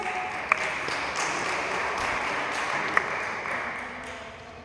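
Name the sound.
audience applause for Dr. Lawrence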